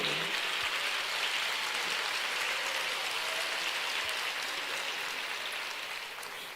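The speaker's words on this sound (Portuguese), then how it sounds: "Imediatamente, pode aplaudir." Church congregation applauding during a sermon, a sustained, even roar of many hands clapping that holds steady and only tapers slightly at the end.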